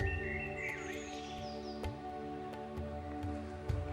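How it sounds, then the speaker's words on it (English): Faint birdsong in an unspoilt meadow in Hampshire. A few thin chirps and a short warbling phrase rise over a low steady hum, with occasional soft clicks. "on a day like today with all the bird song"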